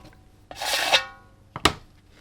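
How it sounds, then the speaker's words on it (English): Dried acrylic paint goo is scraped off a surface in two rasping strokes, one longer and one short and sharp, close and distinct with quiet between them. "Scrape some of this goo off."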